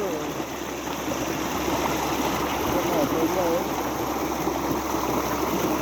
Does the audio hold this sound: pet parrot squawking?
no